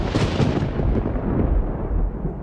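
Thunder during a storm in California rolls as a loud, sustained low rumble filling the whole stretch, with no voices.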